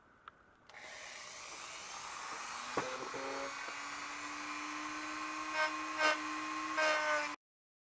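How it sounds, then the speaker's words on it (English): Rotary tool with a thick cutoff wheel cutting a slot in metal for a DIY mini sandblaster: a steady high-pitched whine that holds its tone, with brief grinding bursts near the end as the wheel bites, then stops. "this is a cutoff wheel, but it's a thick one"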